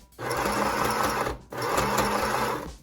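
A sewing machine stitches a fabric face mask, running steadily in two close, continuous bursts that are separated by a brief pause, with no voices.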